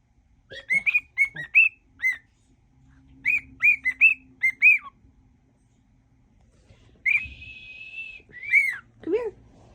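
A pet cockatiel whistles in bright, rising chirps and short phrases, coming in bursts with quiet gaps and a longer held whistle, close by, with faint background hum.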